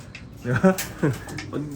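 Racing pigeons cooing close by in a short series of soft, throaty burbling calls, two or three phrases in quick succession.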